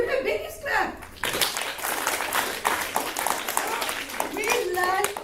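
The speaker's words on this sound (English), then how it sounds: "give it a big clap." A Year 8 class breaks into a big clap during an ethics lesson, a loud burst of dense applause from many children that follows a teacher's voice and continues with some speech over it.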